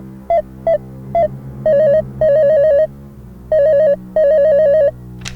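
An electronic telephone ringtone sounds as a call is placed from a computer on a comedy quiz show, playing short warbling bursts in an uneven rhythm, clear and alone.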